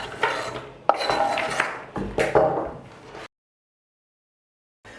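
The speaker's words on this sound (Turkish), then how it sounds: "doğradıklarımı şöyle kabın içine alayım" Freshly chopped ingredients for a meat dish are scraped and dropped into a kitchen bowl, giving close, bright clatters and knocks for about three seconds before the sound stops into silence.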